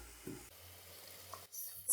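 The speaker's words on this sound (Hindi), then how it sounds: "अब हम मसाले को ऑयल सेपरेट होने तक भून लेंगे।" Masala for an Indian chicken gravy, with coriander powder, salt and ground cashew paste, fries in oil in a pan. A faint, soft sizzle plays alone, with a brief low stir near the start and a brighter hiss at the end.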